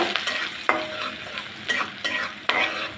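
Chopped onion frying in soybean oil with whole cumin, a spatula stirring and scraping in the pan every so often over a soft, continuous sizzle.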